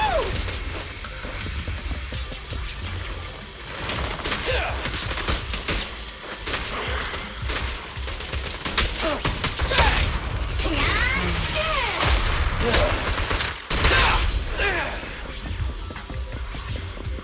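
Video game gunfire in Zenless Zone Zero: dense, continuous volleys of rapid shots and crashes over a busy combat soundscape, with bursts and impacts throughout.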